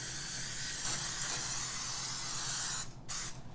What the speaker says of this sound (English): I'm just going to use a little cooking spray.